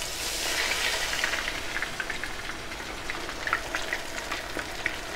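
Beer-battered cod fillets fry in hot oil, a steady crackling sizzle with scattered pops, close and moderately quiet, with no voices.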